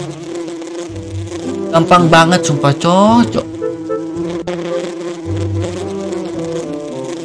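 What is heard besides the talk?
bees buzzing in the video game Save the Doge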